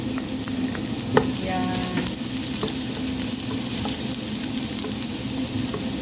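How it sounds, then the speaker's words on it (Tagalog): Minced garlic and ginger frying in hot oil as the base for chicken biryani, a continuous close sizzle with a brief clatter near the start and a few light stirring scrapes, a single short word spoken. "tapos nalagay na rin yung ginger, yung loya, tapos ayun, ilalagay na yung garlic."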